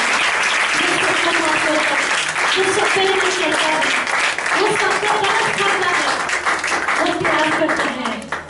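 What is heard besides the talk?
audience applause in a church sermon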